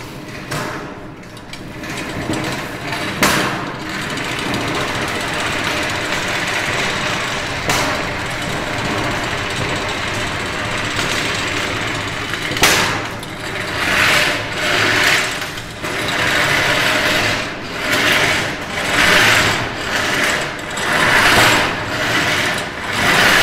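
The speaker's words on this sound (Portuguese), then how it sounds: "O que faz a peça dobrar, agora eu falei várias vezes, é passar a máquina." A gutter bending machine folds custom sheet metal gutter with a continuous mechanical whir and grinding, punctuated by sharp clanks and metallic scrapes that grow busier toward the end.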